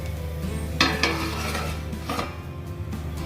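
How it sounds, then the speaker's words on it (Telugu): Plate lid set down over a paniyaram pan of frying batter, a couple of light metallic clinks and scrapes over a steady soft sizzle. "ఇప్పుడు ఇంకా నేను బాగా మగ్గడానికి దీనిపైన నేను ప్లేట్ మూత వేస్తున్నాను"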